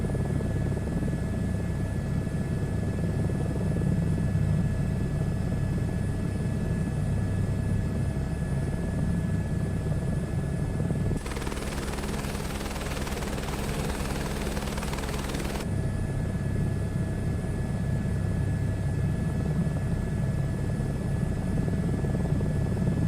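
A helicopter flies in Microsoft Flight Simulator 2024, its steady rotor and engine drone running throughout with a harsh broadband hiss swelling over the middle stretch, no voices.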